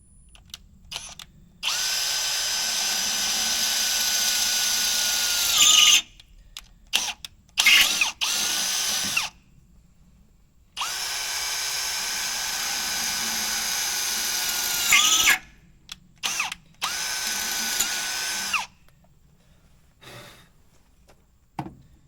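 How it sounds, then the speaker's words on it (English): A power drill bores out holes in a tractor part in several loud bursts of steady whine, each run a few seconds long and separated by brief pauses, with no talk. "these holes have to be drilled out"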